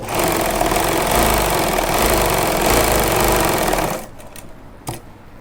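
A sewing machine stitches a pocket onto pajamas, running a close, steady, dense whir for about four seconds before stopping. A couple of faint handling clicks follow.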